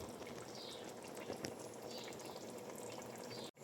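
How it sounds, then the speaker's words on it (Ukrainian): Zucchini and mushroom salad with satsebeli sauce and ground paprika simmering in a pot, a steady, close bubbling and sizzling that holds evenly throughout, with a brief dropout near the end. "Усе перемішуємо і варимо 20 хвилин."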